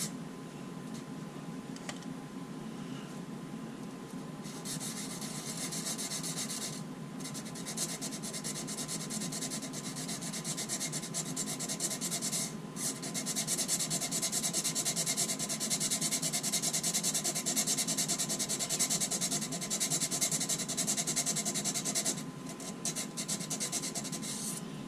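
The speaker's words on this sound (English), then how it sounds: "you want to make sure that you sand that off" Folded sandpaper rubs steadily against a fabricated G12 avbay nosecone, a continuous close scratchy hiss with repeated back-and-forth strokes and no talking.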